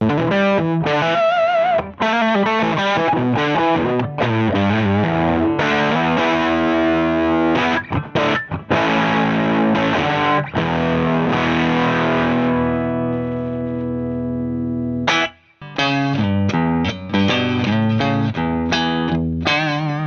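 A heavily distorted, fuzzy electric guitar played through a modified Behringer Fuzz Bender pedal plays riffs and sustained chords loudly, with a brief drop out near the end before the fuzzy playing resumes.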